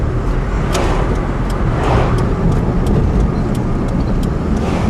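A van engine and muffler drone steadily from inside the cab, with a broad low rumble and road noise, and faint clicks scattered through it.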